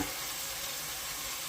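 Sliced beef cooking in a hot pan for steak and kidney pie, giving a steady, dense, close sizzle that holds evenly throughout with no voices.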